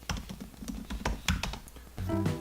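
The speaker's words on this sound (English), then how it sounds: "And this keyboard, I don't know if you could hear it" Typing on the butterfly keyboard of a 2018 15-inch MacBook Pro, a quick run of soft, close clicks and taps in irregular rhythm, faint and without talking.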